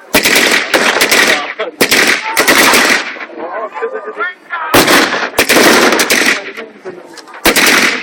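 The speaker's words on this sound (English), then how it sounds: "The crane gun was close support machine guns used by British infantry squads" A British WW2 Bren light machine gun fires at a castle re-enactment battle, loud rapid bursts of automatic fire close by, with echoing gaps and distant shouting voices between bursts.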